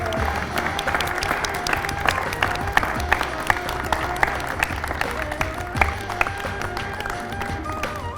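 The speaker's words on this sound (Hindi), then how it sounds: "सालगिरह का केक काटा तो स्टूडियो तालियों से गूंज उठा" Steady studio applause at a first-anniversary cake cutting ceremony for a news channel, many hands clapping continuously with a few sharper claps standing out, no talk over it.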